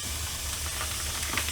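Ground beef hits a hot pot and sizzles with a steady, close, broadband hiss that holds for the whole moment while being browned in batches for home canning.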